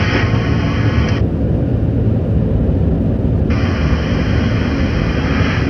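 Jet engines of an An-124 Ruslan cargo plane at nominal thrust after takeoff, a loud steady roar heard from inside, with the upper hiss dropping away briefly and then returning.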